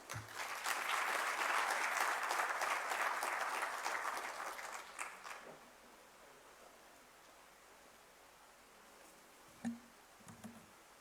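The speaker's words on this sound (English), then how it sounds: "A round of applause again" A graduation ceremony audience for a cell phone repair course in Tshwane breaks into loud, dense applause that swells, holds for several seconds, then fades to a few scattered claps and quiet room noise.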